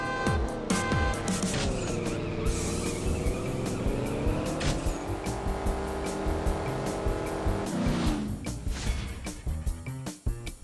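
A Camaro SS races in the CSR Racing mobile game, its engine revving loudly and climbing through gear shifts with brief tire squeal, all close and continuous with no voices.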